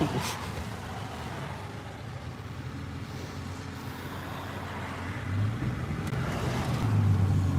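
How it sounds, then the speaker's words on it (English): Several cars climbing a hill in steady traffic, a continuous low engine rumble from nearby vehicles that swells slightly toward the end, with no talking. "There's a lot of cars."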